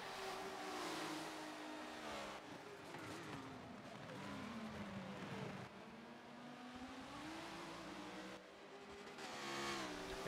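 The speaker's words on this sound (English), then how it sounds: "that Lamborghini showing its acceleration off of exit" Lamborghini engine in a GT racing video game, revving hard and climbing through the gears as it powers out of a corner exit, with loud, continuous sweeping pitch rises and gear-change drops throughout.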